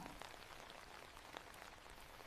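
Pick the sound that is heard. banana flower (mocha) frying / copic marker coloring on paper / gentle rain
gentle rain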